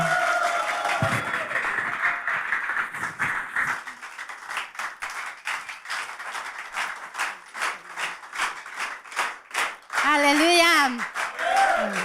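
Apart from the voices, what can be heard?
congregation clapping hands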